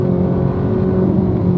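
A Ferrari 458 sports car being driven, its engine giving a steady, even drone with a constant low hum, heard from inside or close by, no talk over it.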